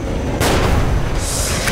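Grenade blast in Metro Last Light Redux, a loud, close boom that erupts suddenly and rumbles briefly before a second burst of noise follows.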